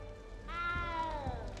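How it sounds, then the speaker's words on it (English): A frightened cat meows in Hogwarts Legacy, a single rising then falling plaintive cry that is close and clear over a low background hum. "You don't need to be frightened, little cat."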